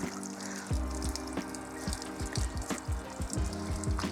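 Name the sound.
rinsing car with hose nozzle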